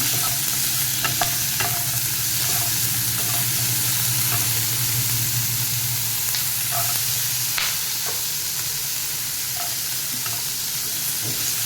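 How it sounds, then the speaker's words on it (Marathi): Onion sautés in a pan alongside chili paste for a potato and soya curry, giving a steady, close, loud sizzle with occasional scraping stirs throughout and no talking. "कांदा घालूया आणि परतून घेऊया"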